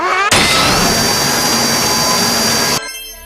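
A cartoon drill machine digging into the ground gives a continuous loud, high whining buzz that holds steady for a few seconds before cutting off abruptly.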